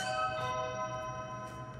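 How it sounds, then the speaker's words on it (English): A doorbell at a gate rings with a sustained, shimmering chime tone that hangs and slowly fades, fairly faint and alone. "they're ringing my bell. Somebody just trying to get in the gate."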